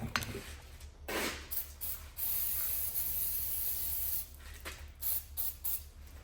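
Brake cleaner sprays onto a carbon-fouled Continental flathead piston in short hissing bursts and longer steady blasts, close and moderately loud, interspersed with faint clicks and handling noises.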